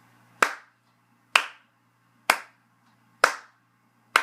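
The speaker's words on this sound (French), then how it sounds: "Pourquoi t'applaudis?" Five crisp, loud hand claps, spaced about a second apart in a slow, even rhythm, each ringing briefly in a quiet room.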